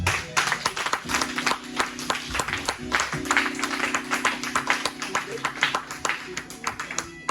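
A church congregation clapping together in a steady rhythmic beat to acclaim God, with voices and sustained music tones running underneath.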